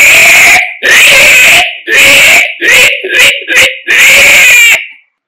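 A mimicry artist's voice imitates a piglet's squeal in loud, shrill bursts, six or seven separate cries of varying length with short gaps between them, close and alone.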